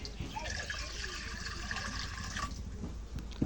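Water pours steadily into a cooking pan (karai) to boil eggs, a continuous fairly close splashing rush lasting the whole stretch, with a voice faintly present nearby.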